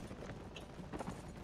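Horse hooves pound in a fast gallop during a Lord of the Rings battle in The Last Days of the Third Age, a brief dense drumming of hoofbeats mixed into steady battle noise.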